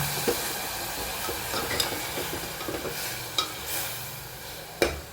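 Stuffed brinjal curry sizzling in hot oil as it is stirred, with water added partway, giving a steady frying hiss broken by scraping stir sounds and a few sharp clinks, close and fairly loud with no talking.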